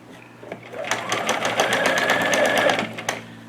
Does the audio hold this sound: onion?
no